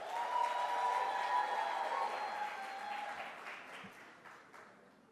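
An audience at a public sector debate competition grand final applauds a team, sustained dense clapping that fills the room and slowly tapers off.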